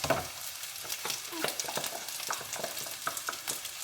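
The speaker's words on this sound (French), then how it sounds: "Et dès que ça grésillera, on mettra les oignons et l'ail." Onions and garlic sizzle in a hot pan with a steady, close crackle, while repeated stirring strokes scrape and clatter through it at a quick, uneven rhythm.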